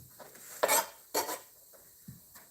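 Onions tipped into a warming pan for a Ramadan dinner, then stirred: a few clattering scrapes of a utensil against the pan with soft rustling between, fairly close and with no voice over them.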